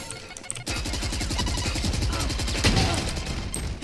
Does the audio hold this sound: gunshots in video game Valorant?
yes